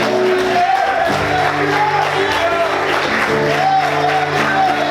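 A church congregation applauds during a Sunday morning service, with dense continuous clapping mixed with shouts and cheers, while music plays underneath.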